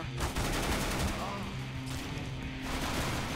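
Rapid bursts of automatic gunfire fill a round of the video game CSGO, dense and loud with near-continuous rattling shots stacked over one another.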